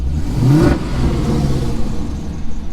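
A Chevrolet Corvette C5 engine, running rich after an oil catch can install, revs steadily with a loud, continuous mid-range drone and a brief rise in pitch early on, close up with no talking.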